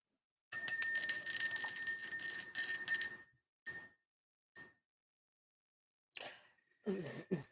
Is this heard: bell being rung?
yes